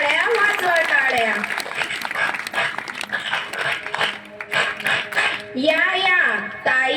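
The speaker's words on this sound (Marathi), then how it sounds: "वाजवा टाळ्या, वाजवा टाळ्या" An audience claps at a school annual day performance by girls, with scattered, irregular clapping mixed under loud sung and chanted voices throughout.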